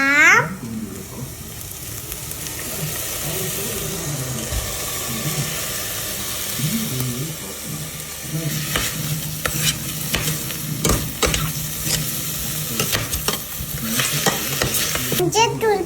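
Tomatoes frying in a pan, loud and close, with a steady sizzle and hiss broken by repeated scraping stirs, growing busier toward the end.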